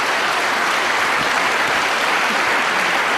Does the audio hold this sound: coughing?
no